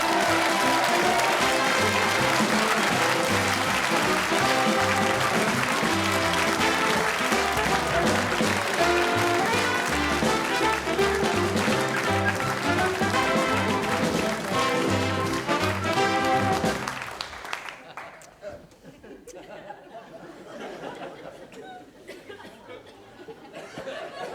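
A theatre audience at an old-time music hall show gives loud, sustained applause for comedian Les Dawson, mixed with a band playing, for about seventeen seconds before dropping to quiet murmurs.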